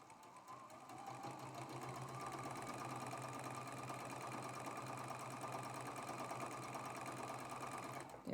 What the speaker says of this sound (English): I'm going to go ahead and sew these 4 seams.